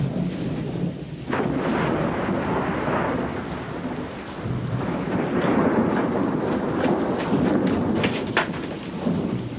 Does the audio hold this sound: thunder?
yes